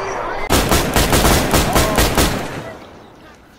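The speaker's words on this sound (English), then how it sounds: "Too many shots!" Rapid gunfire rings out in the video game DayZ, a burst of about ten loud, evenly spaced shots over two seconds that tails off into fading reverberation.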